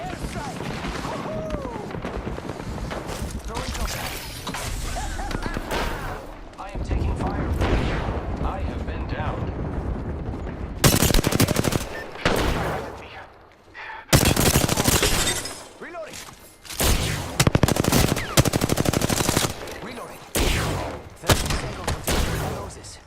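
Video game firefight with dense bursts of gunfire and heavy booming volleys, loud and close, arriving in clusters with brief lulls, while a voice talks over parts of it.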